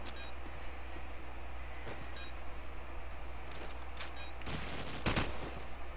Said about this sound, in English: And Zargus finally breaking the silence with the headshot onto FGZ